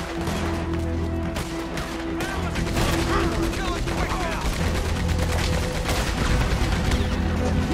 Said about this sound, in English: Get on that Gatling gun, Arthur!